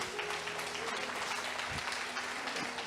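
A church congregation applauds continuously for about three seconds, a dense steady wash of clapping with a faint low hum underneath.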